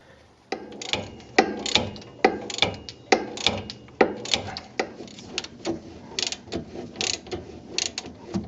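A hand ratchet clicks in quick repeated bursts, each stroke a sharp pawl rattle, while loosening hub assembly bolts on a Chevy Silverado front spindle; close and steady throughout, without talk.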